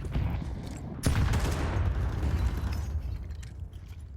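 Grenade exploding in a Counter-Strike match at a CS Asia Championships semi-final, a sudden loud blast followed by a rumbling, crackling tail that slowly fades.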